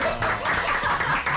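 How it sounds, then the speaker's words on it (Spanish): Studio audience applause for a guest judge on a parody show, a dense steady wash of clapping hands, fairly loud and continuous for a brief moment with little else over it. "el aplauso para él"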